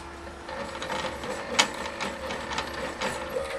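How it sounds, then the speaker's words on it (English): A homemade CNC router on a test run, fitted with flexible drive couplings and spring modifications, with a cheap B&Q router as its spindle, gives a steady mechanical whir and faint stepper ticking, plus one sharp click partway through. "Second test run of CNC router."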